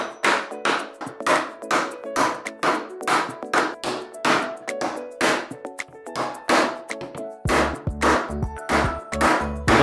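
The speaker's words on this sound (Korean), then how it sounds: "구멍에 접착제를 바르고 목심을 박아줍니다" Repeated sharp hammer blows drive wooden dowels into glued holes for a solid-wood table, loud and close, in a steady series of strikes with a louder resonant thud near the end.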